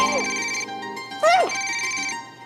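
A phone ringtone plays continuously with steady electronic tones, while a voice talks over it partway through.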